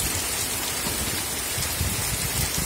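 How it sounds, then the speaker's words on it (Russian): Heavy autumn rain falls on an apiary, a dense, steady hiss of countless drops spread evenly across the whole stretch, moderately loud with no voices. "Льет сильный дождь."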